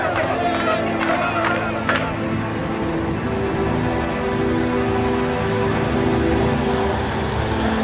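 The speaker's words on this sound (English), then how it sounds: "A tumultuous crowd gathers at Lod Airport to welcome home the returning heroes." A large crowd at Lod Airport welcomes home returning hostages. A dense, steady roar of many voices and cheering holds throughout at a distance, with a few sharper bursts early on.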